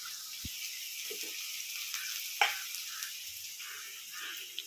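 Onion dropped into hot oil in a home kitchen, cooking the monsoon wild greens takla: a faint, steady sizzle with a sharp splash-like crackle midway and a few soft clinks, no voices.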